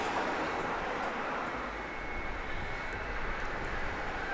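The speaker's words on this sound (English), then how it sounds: "there is Flight 104, another Max 8, Cayman Airways." Cayman Airways Boeing 737 Max 8 jet at Grand Cayman airport, a steady broadband engine roar holding loud and constant throughout, with no voices.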